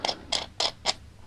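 A bolt slides in a six-key puzzle lock with four short, evenly spaced metallic creaks close up, each a quick scrape with quiet gaps between.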